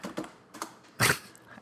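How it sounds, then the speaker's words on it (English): A few sharp clacks from a loud mechanical keyboard, spaced irregularly with one stronger burst near the end, close and fairly quiet with no talk. "I can hear you typing right now."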